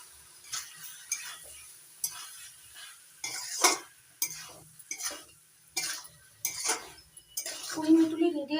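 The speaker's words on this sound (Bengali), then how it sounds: "ভালো করে মিশিয়ে নেব।" A utensil stirs and scrapes through a Malabar spinach stem curry in a pan, sounding as repeated close clinks and scrapes in an uneven rhythm over a soft sizzle, with a faint voice near the end.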